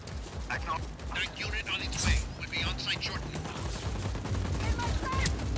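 Gunfire in the video game Just Cause 4, with repeated sharp shots and rattling bursts mixed with mechanical clanks, steady and fairly close throughout, while a voice talks over the action.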